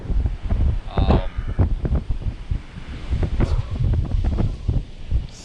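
Gusty wind buffets the microphone on an open beach at Cape Lookout National Seashore, a low rumbling roar with swelling bursts.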